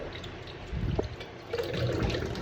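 Weak-pressure tap water trickling and splashing while food is washed during home cooking, close by, growing fuller after a quiet start.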